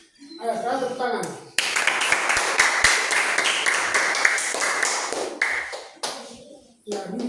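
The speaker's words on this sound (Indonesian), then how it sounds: "Ayo, sekarang tepuk tangan." A class of students claps together, a loud burst of many hands lasting several seconds that fades away, with a teacher talking before it and again after.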